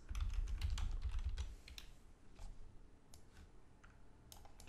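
Keystrokes on a computer keyboard while writing PHP code, a steady patter of light, close taps in uneven bursts over a low hum, with no talk.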